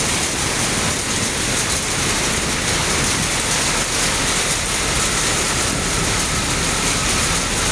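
A sudden, heavy downpour of rain forms a loud, steady, dense hiss that carries on unbroken throughout, with no voices.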